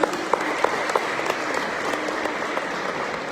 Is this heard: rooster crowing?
no